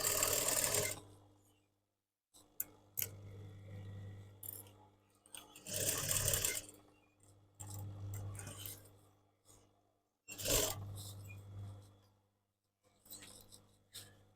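A sewing machine stitches stretch fabric for a short jacket add-on in several separate bursts of rapid mechanical whirring, with quiet pauses between runs, heard up close.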